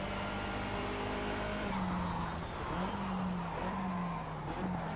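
Race cars including a Mitsubishi and a BMW roar around a track in the Project Cars racing game, with a steady engine drone, shifting pitch as gears change, and faint tire squeal.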